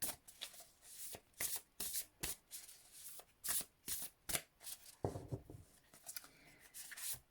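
Tarot cards are shuffled by hand in a quiet room, a close run of crisp riffling bursts repeating in an uneven rhythm, with softer handling and tapping of the deck near the end.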